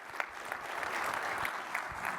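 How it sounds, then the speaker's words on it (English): An audience applauds at an event, with steady sustained clapping that carries on from start to end at a moderate distance, and no talk over it. "a round of applause for Oliver"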